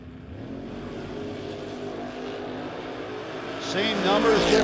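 Drag race cars launching on a drag strip in a No Box 660 shootout, engine roar building steadily and rising sharply near the end, heard under an announcer's talk.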